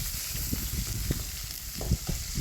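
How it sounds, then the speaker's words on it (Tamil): Shallots and curry leaves sautéing in a pan for Chettinad country chicken fry, a steady close sizzle broken by soft, irregular stirring thumps. "வெங்காயம் வந்து பார்த்திங்கன்னா நல்லா பொன்னிறமாக சேர்ந்து வர வரைக்கும் வதங்க விடுங்க"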